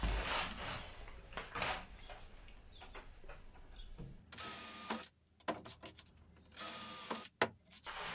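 Power drill boring into a wall panel while furniture is built in a camper trailer: two loud, close bursts of whining drilling, each under a second long, among clatter and handling noises.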